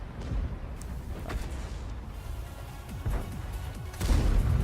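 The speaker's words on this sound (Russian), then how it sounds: "А, я ББшками стреляю?" Tank cannon fire in World of Tanks, armor-piercing rounds, heard as a few dull booming shots with crashing impacts over a dense, rumbling battle background, moderately loud with no voices.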